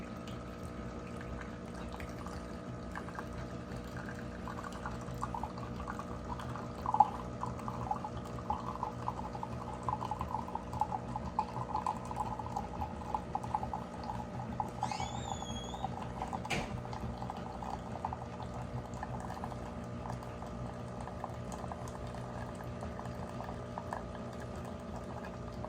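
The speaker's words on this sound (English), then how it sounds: "See those two lovely streams of coffee." A Miele coffee machine dispensing two streams of coffee, a steady low pump hum with bubbling, trickling liquid, plus a faint hiss and a couple of small clicks, no voices.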